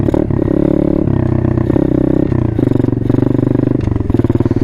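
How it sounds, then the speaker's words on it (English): A dirt bike lugs in too high a gear at low speed with a loud, close, chugging engine drone. The rapid uneven pulsing and strained tone hold throughout with small shifts in pitch. "that's what happens when you do go too slow and too high of a gear"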